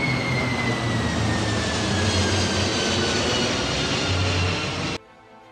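Powerful jet engines of a US Air Force C-5 heavy transport aircraft roar steadily and loudly with a broad, rushing drone and a faint high whine, then cut off abruptly near the end.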